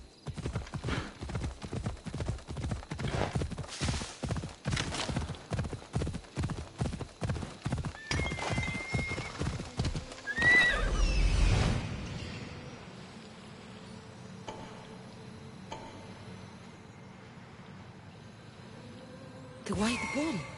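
A horse gallops in Assassin's Creed Odyssey, rapid rhythmic hoofbeats pounding for about ten seconds, then a loud whinny as it slows, followed by quieter ambience and occasional voices.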